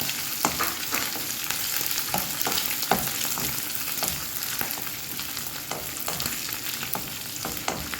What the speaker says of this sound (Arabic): هنزل بقى الكوز القلب والكلاوي والطحال والكلام ده كله، هنزل بيه وادي تقليبه حلوه كده، تشويحه حلوه.